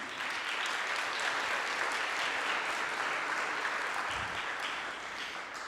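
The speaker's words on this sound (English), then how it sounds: "This is your applause, everyone behind the scenes here" Steady applause from a symposium audience on ocean observing fills the room, a dense even patter of many hands clapping without a break, gradually easing toward the end.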